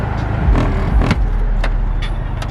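A car engine hums steadily while cruising, low and close, with a few clicks and rattles inside the cabin.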